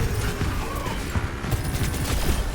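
Rapid, dense gunfire from an Overwatch 2 match, with steady overlapping shots and impacts forming a loud, continuous barrage of game combat noise.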